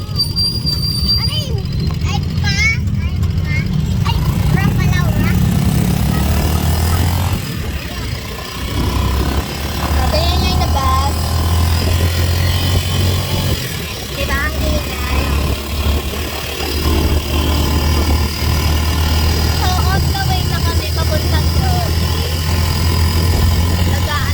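Steady low engine rumble of a motor tricycle carrying passengers on a ride in the Philippines, close and continuous, with people talking over it throughout.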